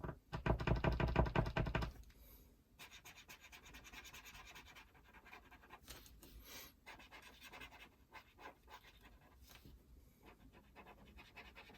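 An acrylic paint pen nib being primed by pumping it against a surface, a fast run of loud, close tapping clicks, then softer scattered taps and scratchy rubbing, with no talking.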